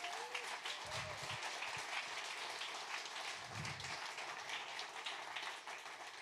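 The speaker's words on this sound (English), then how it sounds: "I want a collective round of applause for what these two individuals have done in Bend" A room full of people at a Central Oregon pub talk give a round of applause, a fairly faint, steady patter of clapping like light rain, with a couple of low muffled thumps underneath.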